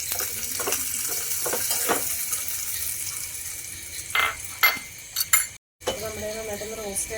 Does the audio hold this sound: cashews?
yes